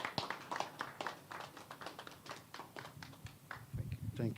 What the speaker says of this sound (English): Please let's welcome Mr. Ahamefule with a resounding applause